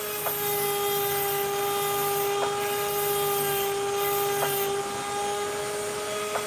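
A power tool sands an opal with a steady, close whine that holds its pitch throughout, broken by a few faint ticks as the stone touches the wheel.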